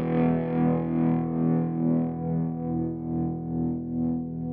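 Electric guitar through an amp with a lush, Lexicon-style plate reverb and a slightly distorted tone, playing one sustained, ringing chord that swells and decays smoothly.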